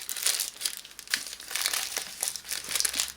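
Crinkling and crumpling of wrapping as a Lush deodorant bar is unwrapped, a series of close, irregular rustles and crackles in short bursts.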